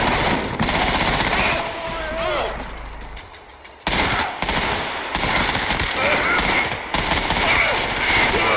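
Loud, sustained machine-gun fire from enemies in the Trepang 2 video game, dense rapid bursts broken by a short lull, with a voice speaking over the shooting.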